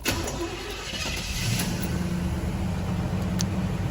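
A 1979 Chevy Monte Carlo engine running, a loud, steady mid-pitched rumble close by that rises slightly after the first second and then holds an even idle, with no talking.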